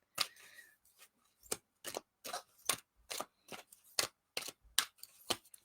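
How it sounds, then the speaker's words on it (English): A deck of cards shuffled in a quiet room, a run of about a dozen short crisp riffling bursts in an uneven rhythm, close and fairly soft, with no talk. "Shuffle, shuffle, shuffle."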